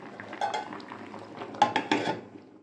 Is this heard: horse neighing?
no